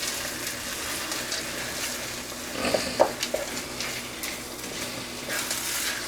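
Cottage pie filling being stirred in a pan, a soft continuous sizzle with a cluster of scraping, clattering stirs near the middle, close and moderately quiet.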